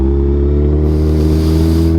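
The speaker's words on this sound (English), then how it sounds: "I just started this bike up, so I'm gonna need to let it warm up" A motorcycle engine idles just after being started, a loud, steady low rumble with even firing pulses held throughout and no talking.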